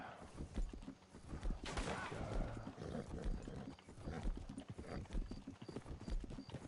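Horse hooves clip-clop steadily in the video game Red Dead Redemption 2 while the character rides, a continuous busy patter with some background game sound and occasional noise.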